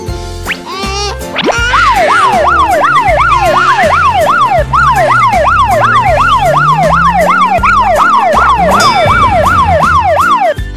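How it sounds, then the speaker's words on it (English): A loud siren wails in a rapid rising-and-falling pattern, joined by playful boing-like sound effects. "Police car."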